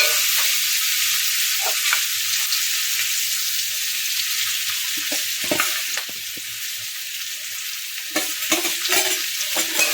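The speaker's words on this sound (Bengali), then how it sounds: "আবার নেড়ে চিড়ে নেব এবার এর মধ্যে চিনিটা ভেজে রাখা চিনিটা দিয়ে দেব" Green chillies and sugar being stirred in a frying pumpkin and prawn curry: a steady, close sizzle with scraping spatula strokes through the pan.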